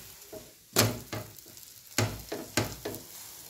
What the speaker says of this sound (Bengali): মিডিয়ামে রেখে এটাকে আস্তে আস্তে ভেজে নেব